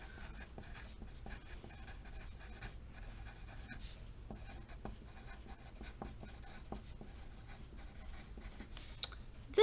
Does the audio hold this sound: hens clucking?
no